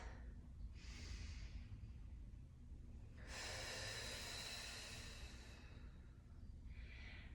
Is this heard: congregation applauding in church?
no